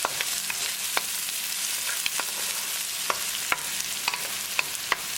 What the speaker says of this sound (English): Now we're going to add green chili. Keep mixing and keep cooking.